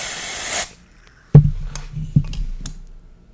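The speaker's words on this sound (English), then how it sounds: "I'll spray it on the palm of this hand so you can see." Invisible dry shampoo sprayed in a broad hissing burst onto a palm, close and loud for about half a second, followed by quieter handling sounds and faint clicks.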